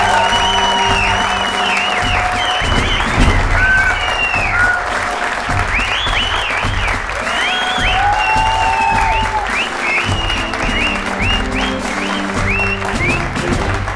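A studio audience breaks into loud, sustained applause with scattered cheers and whistles, a dense crowd of hand claps running steadily throughout.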